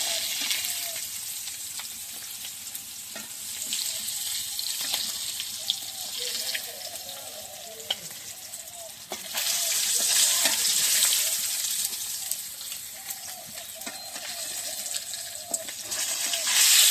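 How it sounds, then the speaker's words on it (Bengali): Fish frying in a pan makes a steady sizzle over about seventeen seconds, with scattered clicks and scrapes from handling. A louder, rushing stretch in the middle sounds like running tap water. "এই যে মাছ ভাজা হয়ে গেছে নামিয়ে নিই"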